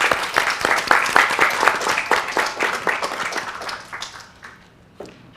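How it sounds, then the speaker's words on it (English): Quick round of applause from a conference audience, fairly loud, rapid clapping that thins out and fades, with a few last isolated claps. "just to give those guys all a quick round of applause to say well done"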